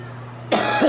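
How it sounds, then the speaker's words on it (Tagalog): A single sharp cough from a child being checked for a lung condition, close and loud, breaking a quiet room. "Yan ubo."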